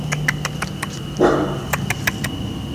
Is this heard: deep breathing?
no